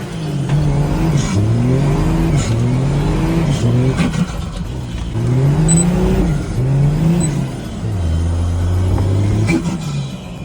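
Turbocharged Nissan GU Patrol engine revving hard on the move, loud and close, pitch climbing and dropping through repeated gear pulls with a steady rumbling drone between, no talk over it.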